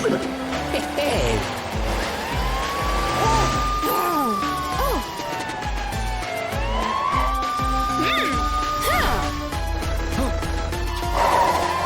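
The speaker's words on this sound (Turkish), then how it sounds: "işte polis arabası Matilda krokomili kovalıyor" A cartoon police car siren wails in long rising and falling sweeps amid busy cartoon-like sound effects and occasional voices.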